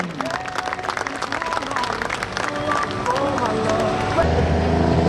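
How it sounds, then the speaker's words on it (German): Applause for a tractor pulling team rises over a steady engine drone and crowd noise at an outdoor 2.5-tonne free class event, with a voice talking through it. "noch einmal einen riesen Applaus für Final Destination!"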